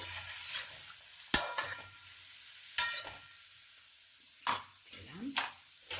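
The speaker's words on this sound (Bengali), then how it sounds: "এই যে জলটা গুলে রেখেছিলাম মিক্সি থেকে, সেই জলটা আমি দিয়ে দিলাম" Mustard-water poured into bottle gourd cooking in a pan for lau dudh shukto, heard as a low simmer under scattered sharp utensil clinks and scrapes, with a soft splashing swirl near the end.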